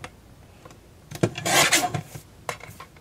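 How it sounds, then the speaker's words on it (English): A stamped card being trimmed close by hand, with a few light scrapes and then a longer, louder rasping cut in the middle, nearby and without talk. "I want to trim it really close."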